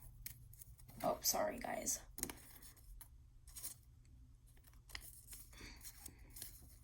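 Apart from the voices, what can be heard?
scissors cutting around a sheet of paper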